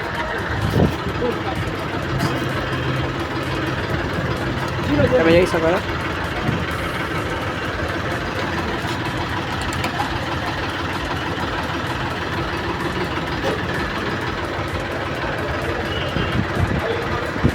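A tractor's diesel engine idles steadily at a fuel station, a constant low rumble under ongoing talk and bystander voices.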